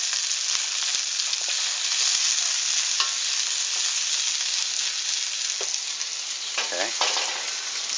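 Onions sizzling and frying in a pan for a bok choy and onion dish with oyster sauce, a steady loud crackle with occasional stirring clicks and a brief spoken word.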